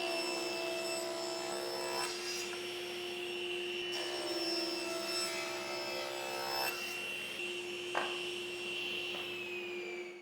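A wooden board is ripped into strips with a power saw that holds a steady, loud, high whine and grinding rasp for about ten seconds, cutting out near the end.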